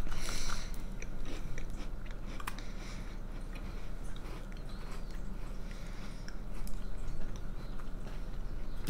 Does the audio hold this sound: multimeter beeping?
no